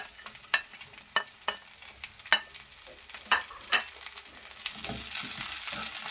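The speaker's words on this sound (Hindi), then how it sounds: "अब जो मैं आधा किलो इसके अंदर प्याज शामिल कर रहा हूँ।" Half a kilo of onions goes into a pot of chicken and spices, frying with a soft steady sizzle while sharp stirring scrapes and clanks land at irregular intervals.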